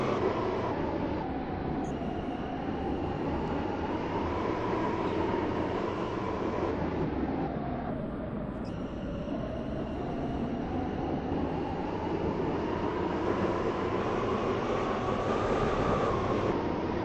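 An airport terminal shuttle train runs steadily, with a continuous rumble and hum of wheels on track and a slight swell and dip in pitch midway.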